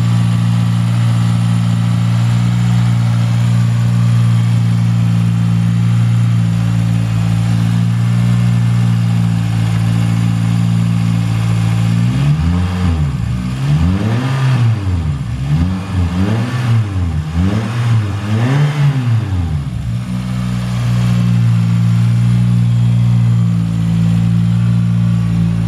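A 2000 Toyota Celica GT-S with a 1.8 liter VVTL-i four-cylinder idles steadily, then revs up several times in repeated rising and falling bursts before settling back to a smooth idle.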